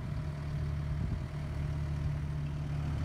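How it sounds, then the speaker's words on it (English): A tractor engine idles steadily nearby with a low, constant rumble on a North Dakota farm during pole barn construction, with no speech over it. "I got to help him a little bit run the tractor."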